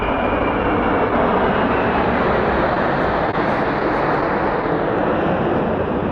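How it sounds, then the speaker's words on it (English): F-18 and F-35 fighter jets pass overhead during a flyover at a rally, producing a loud, continuous, broadband jet roar that stays steady and dense throughout. "F-18s, 4 F-35s."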